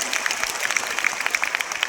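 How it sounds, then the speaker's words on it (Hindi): An audience at a Teacher's Day celebration in Patna bursts into dense, lively applause for a teacher, a crackle of many hands that lasts a couple of seconds. "उसके लिए हम लोग एक बार पुनः तालियां बजा सकते हैं सर के लिए"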